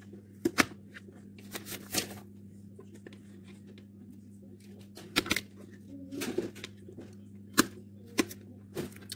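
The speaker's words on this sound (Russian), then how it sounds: "Нарезаю зелень." Sharp, irregular knife taps chopping herbs on a cutting board, clustered in short bursts with pauses between, close by over a steady low hum.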